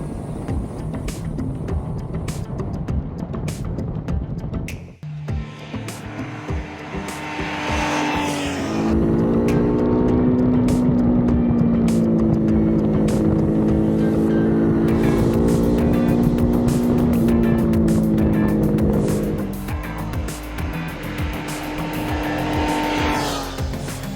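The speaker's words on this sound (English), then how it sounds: "this bike sounds so good already" A 2026 Triumph Trident 800 motorcycle engine under riding, loud and close, revving up through the gears in rising and falling sweeps with a sustained steady pull in the middle, no talking.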